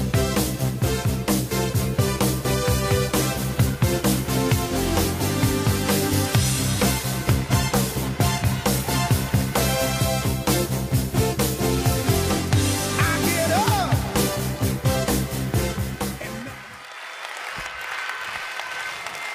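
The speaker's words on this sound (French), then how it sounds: "un tonnerre d'applaudissements pour Georges-Louis Boucher" Long, thunderous audience applause greets Georges-Louis Boucher at a May Day political rally in French-speaking Belgium, with dense rhythmic clapping and music underneath for about sixteen seconds before it fades away.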